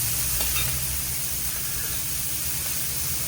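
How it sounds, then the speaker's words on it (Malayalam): Chopped onion, ginger and green chili fry in hot oil for a bonda recipe, giving a steady, close sizzle with a faint hiss that runs unbroken from start to finish, with no talking. "സവാള ഇഞ്ചി പച്ചമുളക് ഇത് നമുക്ക് ഫ്രൈ ആവുക"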